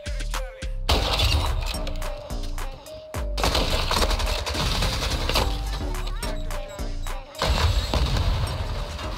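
Gunfire in the video game Modern Warfare 2 cracks out in rapid bursts of sharp shots, broken by brief pauses, loud and close across the whole stretch.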